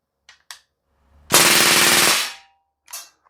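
A Crosman A4-P CO2 blowback BB machine gun fires one rapid full-auto burst lasting about a second, loud and close, framed by a few faint clicks before and after.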